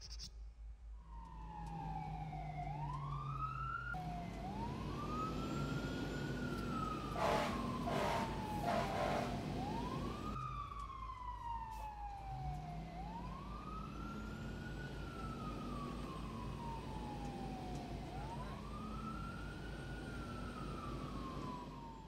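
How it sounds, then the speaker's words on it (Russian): A cartoon police car siren wails in repeated rising-and-falling sweeps, loud and close, with a burst of sharper tones partway through, running continuously over a steady low engine hum. "Полицейская машина."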